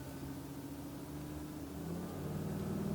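A 2008 Four Winds Windsport 32E motorhome engine hums at moderate level, its low drone rising in pitch and volume toward the end as it accelerates uphill.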